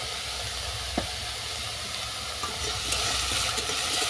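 Apple chutney fries with salt in a pan, giving a soft, even sizzle and hiss at moderate volume, with a few faint clicks of stirring scattered through it.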